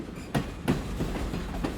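Train sound effect in a horror audio drama: a steady rolling rumble with rhythmic clickety-clack wheel beats over rail joints, moderately quiet and unaccompanied by talk.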